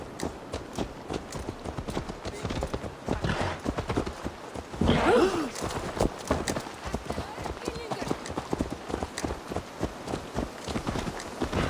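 Horse hooves clip-clop steadily in the Assassin's Creed Valhalla video game, a rhythmic walking gait running throughout at moderate level beneath background game sounds, with a brief whinny-like burst near the middle.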